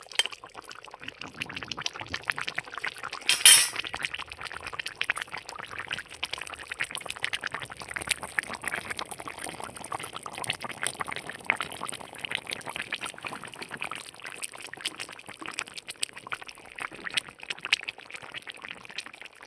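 Home-cooked Bengali fish curry with eggplant, potato, cauliflower and lentil dumplings being poured into a serving dish, a soft continuous liquid pour with faint splashes that runs steadily throughout.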